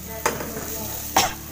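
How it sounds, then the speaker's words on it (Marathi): Leftover rice being tempered and stirred in a pan as Maharashtrian phodnicha bhaat: two quick, faint scraping strokes of a spoon against the pan, over a soft, low background hiss. "फोडणीचा भात करते ग आज"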